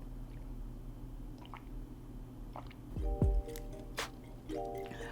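A shot of liquor is chugged in a few close, quiet swallowing gulps and wet squishes near the middle, with no talk.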